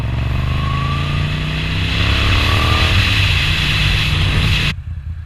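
A Moto Guzzi V9 850cc motorcycle engine with an aftermarket Arrow exhaust roars steadily with a deep, throaty note, revving up slightly midway, then cuts off abruptly near the end.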